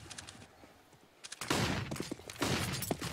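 Pistol gunfire in Counter-Strike during a pro esports match, with sparse single shots early, then dense bursts of rapid shots in two loud clusters, fairly close.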